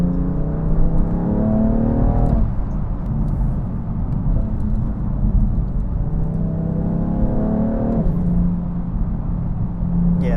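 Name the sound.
BMW F80 M3 Competition engine accelerating, gear change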